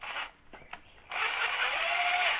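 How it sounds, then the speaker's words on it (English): An impact gun runs on Harley-Davidson clutch bolts during a 2008 SE clutch install, a short burst, a pause with light clicks, then a longer steady whirring run, close and loud. "I'm just using the gun so that we can get them on there a little bit quicker."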